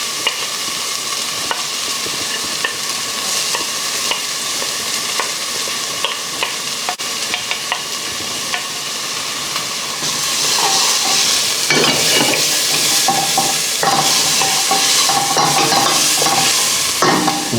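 Onions, garlic and ginger sauté in hot oil for a Beef Pares dish, giving a loud, continuous sizzle with stirring scrapes. The frying swells noticeably brighter and busier about halfway through.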